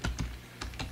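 A few quick keystrokes on a computer keyboard, close and fairly quiet, in a short irregular burst with no talking.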